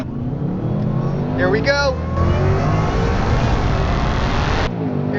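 Ford Mustang Dark Horse engine revving loudly and continuously under an excited voice, throaty roar swelling and holding near, with a brief rising rev in the middle.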